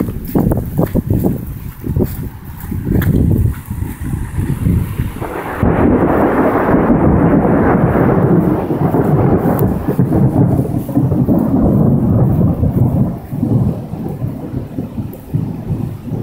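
Thunder from a lightning storm rumbles loud and close, deep rolling booms swelling through the middle and lingering over steady rain and wind, with no talk.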